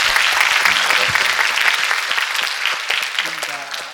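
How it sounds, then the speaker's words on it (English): An audience at the Vartalap show claps for its two hosts, a thick burst of applause that gradually thins out, with people talking over the clapping. "Can you have a clap for them?"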